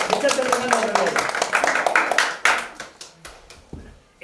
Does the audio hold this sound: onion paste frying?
no